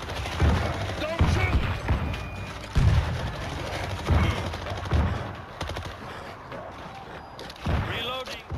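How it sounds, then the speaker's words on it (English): Gunfire in the zombie shooter World War Z comes as repeated sharp bursts of shots and short rattling volleys at an uneven pace, with in-game voices and effects mixed between them. "We're hearing gunfire from the river."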